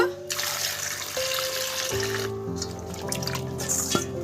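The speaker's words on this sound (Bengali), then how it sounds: "আমি কলের জলে ধুয়ে নেব" New potatoes being rinsed under a running kitchen tap, a steady splashing and trickling stream with occasional drips, fairly close and continuous throughout, with no talking.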